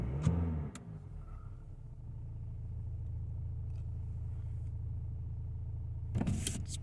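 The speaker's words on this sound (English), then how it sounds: "Just going to give it a couple of revs for you." A 2016 Mercedes C220 CDI diesel estate, AMG Line, has just been started and idles steadily with a low rumble, with a brief engine blip at the start and a short burst of noise near the end.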